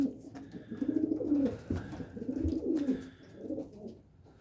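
A young pure-white pigeon coos softly close by, a series of three or four low throaty rolling phrases with short pauses between them, alone and fairly quiet.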